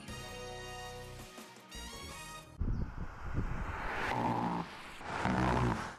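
Car tires roll over highway rumble strips, giving a harsh, steady droning buzz. Loud rough rumbling and whooshing passes follow.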